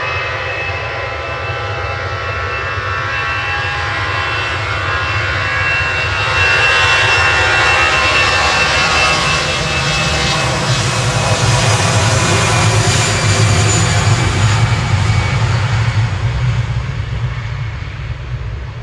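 EasyJet jet airliner departing Manchester Airport: a loud, continuous engine roar with a broad rushing whine that swells midway and holds steady, heard from fairly close in the open air with no talking.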